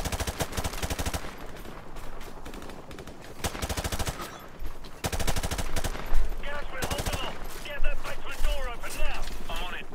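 Video game gunfire from Modern Warfare Remastered arcade mode, as soldiers are shot: rapid automatic bursts broken by short pauses, with explosions and game effects, and someone talking over parts of it.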